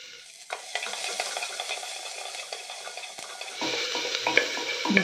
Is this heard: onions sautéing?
yes